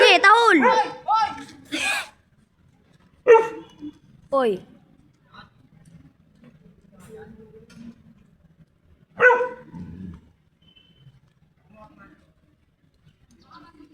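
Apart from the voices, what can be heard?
dog barking on command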